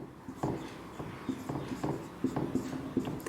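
A pen scratches out notes on paper in a quiet room, making a steady run of soft, close strokes with small taps and pauses between words. No one speaks.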